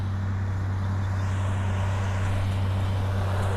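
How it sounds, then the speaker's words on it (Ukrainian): Tractor driving across a field during strip-till corn sowing, a constant loud low engine drone with a steady hum, close and unbroken throughout. "Отак трактор ходить по полю."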